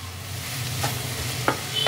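Carrots for carrot halwa being stirred in a hot pan, a soft steady sizzle with a few scraping strokes of the spoon, close and fairly quiet.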